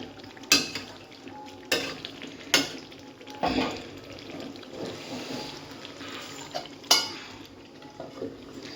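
A dish with whole garlic cooks in a pan, giving a faint sizzle under sharp metal spoon knocks against the pan at irregular intervals, along with stirring scrapes, close by and with no speech.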